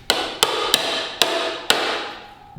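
A kayak paddle shaft struck against a chamfered block of steel, five sharp metallic thwacks at uneven intervals, each ringing briefly, close and clear with no talk.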